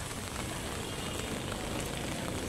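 Heavy rain makes a dense, steady, broadband hiss and patter that stays even throughout, with no voices.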